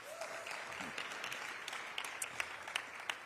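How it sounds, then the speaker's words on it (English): A round of applause for Michael Newmas at a Philadelphia officials' event announcing plans for America's 250th birthday, fairly quiet steady clapping from a crowd with a few sharper claps standing out near the end. "A round of applause for Michael Newmas."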